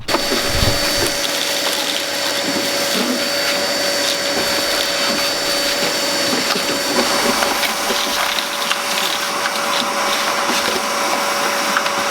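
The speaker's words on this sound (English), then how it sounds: "it's time to give it a vacuum and a clean before these new carpets go in." A vacuum cleaner cleaning a panel van's floor runs steadily and loudly throughout, its motor drone and whine constant, with occasional knocks and scraping as the nozzle moves around.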